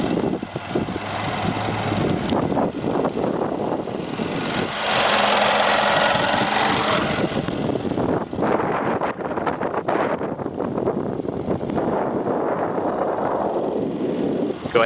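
A 2013 Mercedes-Benz E550 coupe with a 4.7-liter twin-turbo V8 idles steadily, a low continuous engine drone with wind buffeting the microphone and a brief swell in the middle.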